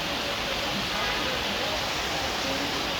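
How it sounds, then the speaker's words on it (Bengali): Heavy daytime rain falling steadily, a dense even hiss that fills the whole span without breaks, moderately quiet and continuous, with no voices heard. "আজকে সারাদিন বৃষ্টি, সারাদিন বৃষ্টি আজকে"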